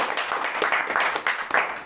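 Audience applause for a mentor's new luxury car at a business gathering, a steady crowd clapping that swells and holds for a couple of seconds with scattered louder claps.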